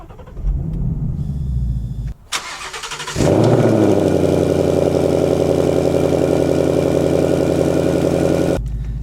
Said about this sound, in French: le mieux à faire, c'est de réveiller le V8